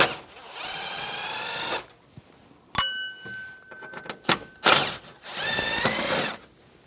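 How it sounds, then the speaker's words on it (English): A Phillips head screwdriver backs two screws out of an interior panel on a 1999-2006 Chevrolet Silverado 1500, giving bursts of close ratcheting clicks and scraping separated by short pauses. "Two screws, Phillips head screwdriver."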